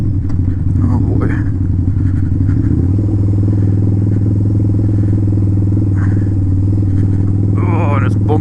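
A Harley motorcycle rumbles steadily up close while riding a bumpy gravel road in a blizzard, a deep constant engine drone with clattering and scraping from the rough surface, and someone talks briefly over it.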